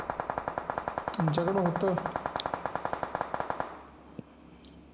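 A Mini 14 rifle fires in the PUBG (BGMI) video game: a long rapid run of evenly spaced sharp shots that stops abruptly, with a person talking over it.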